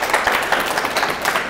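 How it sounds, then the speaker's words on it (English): A panel discussion audience gives brief applause, a close, steady patter of many hands clapping, with no voice over it. "So I just wanted us to give her another applause"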